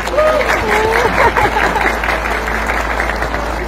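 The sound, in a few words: audience applause for the winners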